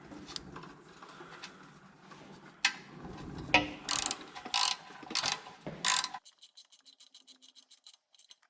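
A ratchet tightens bolts on an LC200 rock slider with metallic scraping and clunks, then a run of quick, even clicks as the handle swings back and forth, close and fairly quiet.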